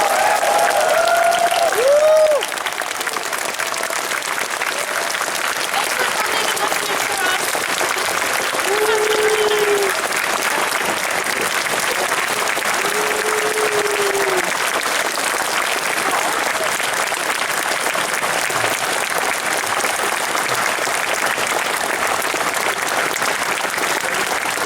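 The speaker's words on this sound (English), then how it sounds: "Give a warm round of applause for all of our guests" Sustained audience applause for the guests of a VIP panel at the BuckCon 2014 convention, a steady wash of clapping from a crowd in a hall with scattered voices and a few whoops.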